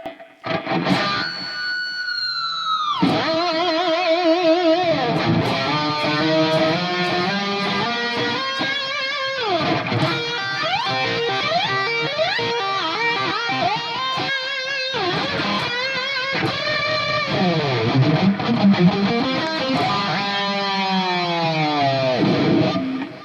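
A distorted electric guitar plays a solo slowly, with bends, slides and sustained notes, loud and alone without accompaniment.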